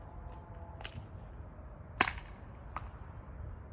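A few quiet, sharp pops from small toy Nerf blasters, including X-Shot pistols, fired during testing indoors, spaced about a second apart over faint background hiss.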